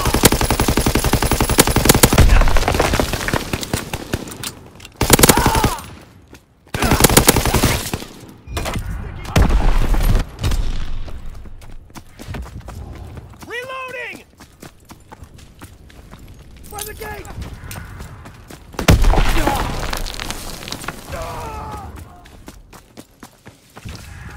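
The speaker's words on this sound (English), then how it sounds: "Enemy mortar fire incoming!" Mortar blasts and rattling machine-gun fire in Call of Duty WWII arrive in loud, dense bursts separated by sudden gaps, with shouted in-game voice callouts between the barrages.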